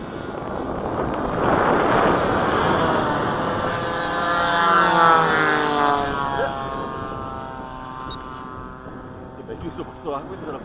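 Several radio-controlled model propeller airplanes fly together in formation, their engines droning with shifting pitch sweeps as they pass, steady and fairly loud over wind noise while people talk throughout.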